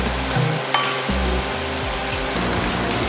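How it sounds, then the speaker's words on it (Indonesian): Shallots and chili sizzling in hot oil in a pan for sambal bawang, a dense, steady close-up frying hiss with light stirring scrapes and clicks, no voices. "setelah si bawang ini kita sudah tumis sebentar ya, kita masukin si cabenya."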